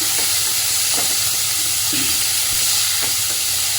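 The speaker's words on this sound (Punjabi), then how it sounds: "ਚੰਗੀ ਤਰ੍ਹਾਂ ਆਪਾਂ ਇਹਨਾਂ ਨੂੰ ਭੁੰਨ ਲੈਣਾ ਪਰ ਜ਼ਿਆਦਾ ਵੀ ਆਪਾਂ ਕਾਲੇ ਨਹੀਂ ਕਰਨੇ" Onions sautéing in a pan, cooked to a light brown for a mixed-veg paneer paratha filling: a steady close sizzle and hiss with a few soft stirring scrapes, no talking.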